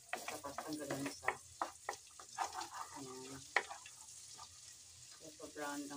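Chopped ginger sizzles and fries in a hot pan while being stirred, with crackling bursts and scraping stirs in an uneven rhythm, close and moderately loud, with a voice briefly talking over it.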